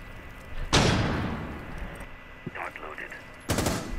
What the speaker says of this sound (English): what are you shooting at, Pete?